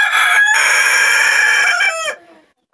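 A rooster crows loudly and close, one long sustained call lasting about two seconds before breaking off into silence.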